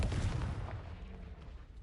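A Confringo fire spell explodes in the Hogwarts Legacy video game, a single deep booming blast at the start that rumbles and fades over about two seconds.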